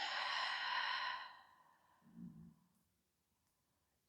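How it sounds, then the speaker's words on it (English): A long, slow exhale of breath during a hatha yoga flow, breathy and soft, lasting about a second and a half, followed by a quiet pause and a faint low murmur. "Long breath out."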